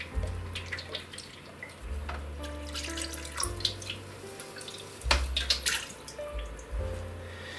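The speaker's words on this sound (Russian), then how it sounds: "Теперь заливаем не в одно место, а распределяем как бы по емкости, разливаем" Salt brine pours and splashes unevenly into a container of meat ribs, with faint drips and gurgles.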